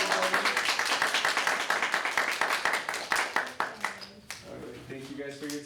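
An audience applauds a presenter at a meeting session, dense rapid clapping that holds steady and then thins into scattered individual claps before fading, with voices faintly underneath.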